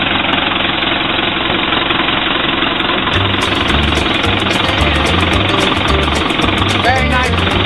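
A Case 580C backhoe's 55-horsepower four-cylinder diesel runs at a steady, loud idle close by, with a rough knocking chug that continues unbroken through the whole stretch.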